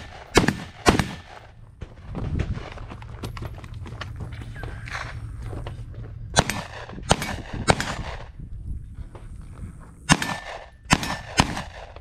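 Pistol shots fired during shooting training crack out sharply, several in separate pairs and small clusters spread across the stretch, loud and close over a steady low rumble of background noise.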